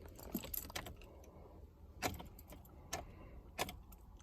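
Keys jangle in a few short, faint metallic bursts as they are turned in the ignition of a Honda Accord with no power. The bursts are spread over a few seconds against a quiet background.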